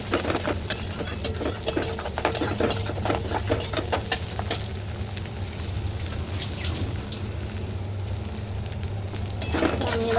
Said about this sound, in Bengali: ডিমটা দিয়ে দিলাম, আমি এখানে নেড়ে দেবো।